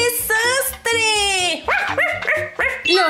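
A cartoon puppy gives several high, whiny yips and barks in quick succession. They are loud and close, sitting alongside bright music or voice in a children's animation.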